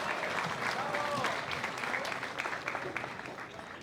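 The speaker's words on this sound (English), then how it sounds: "How about a round of applause for Theophanis for speaking so well." Audience clapping at a Melbourne community commemoration, a sustained, moderately distant round of applause that fades slightly toward the end, with no speech over it.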